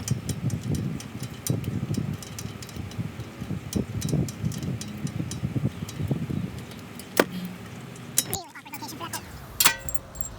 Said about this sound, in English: Let's see if I can get this out by hand now.